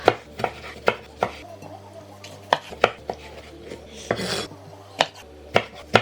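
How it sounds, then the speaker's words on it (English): Knife chopping a tomato on a board in sharp, irregular strikes, some quick pairs, with a brief scraping sound midway; close and fairly loud, no voices. "Next, I'm chopping a large tomato."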